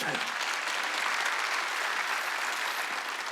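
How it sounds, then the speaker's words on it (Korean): A church congregation at a Wednesday service clapping together in a sustained, even round of applause that carries on steadily and ends abruptly. "얘기한 걸 믿으면 박수 치라요"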